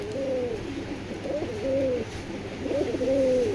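Pigeons coo in low, rolling calls, several repeated phrases up close over a steady background hum.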